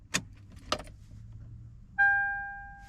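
Two sharp key jangles and clicks as a key is turned in the ignition of a 2003–2008 fourth-generation Toyota 4Runner, followed by a bright dashboard chime that rings and slowly fades in a quiet cabin.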